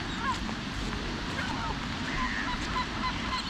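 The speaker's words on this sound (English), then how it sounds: "Listen to our little Seymour" A pet goose honks outdoors on a wet, soggy day, its calls recurring over steady broadband rain-like noise with faint voices underneath.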